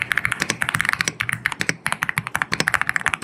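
Fast typing on an AULA S98 Pro mechanical keyboard fitted with Nimbus V3 linear switches, a close, crisp run of quick keystrokes with a brief pause midway, no talking.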